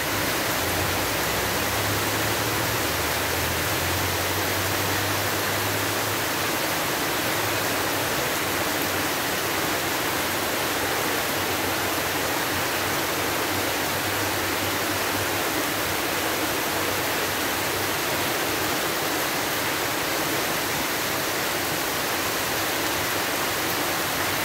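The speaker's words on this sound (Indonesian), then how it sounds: "Ini hujannya deras sekali lur." Heavy rain pours down in a dense, continuous hiss while water runs through a gutter, a steady broadband roar lasting throughout with no voices.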